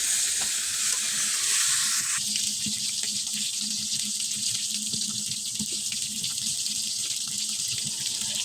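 Bottle gourd and fish cooking in a pan while being stirred with spices, a steady loud hiss with rustling, scraping stirs that thin out slightly after the first couple of seconds.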